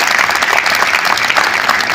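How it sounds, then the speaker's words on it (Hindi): A large crowd at a Hindu religious assembly bursts into loud, sustained applause, a thick, continuous roar of clapping from many hands close by. "तालियां बजा दीजिए"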